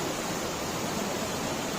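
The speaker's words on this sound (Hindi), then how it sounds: "ऊपर से झरना बहता हुआ।" A waterfall pours down from above beside a bridge on the Baltal route of the Amarnath Yatra, a steady, dense broadband rush of falling water that stays constant and fairly loud throughout with no voices.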